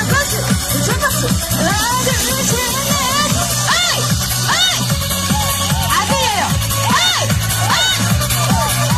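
A festival crowd at an apple fair with a trot singer claps and cheers loudly over music, with whoops and shouted voices rising throughout the continuous, lively roar.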